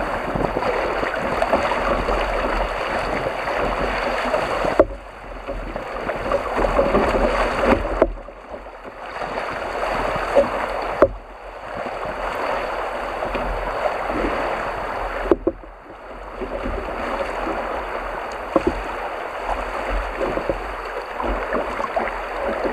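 Paddling a canoe on a lake loop in Quetico wilderness, water swishing and lapping steadily near the hull, with brief pauses between stretches of strokes and a constant wash throughout.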